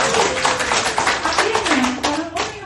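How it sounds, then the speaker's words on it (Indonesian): Dense, steady clapping from an audience fills the stretch, with a voice rising and falling faintly underneath. "Tepuk tangan dulu."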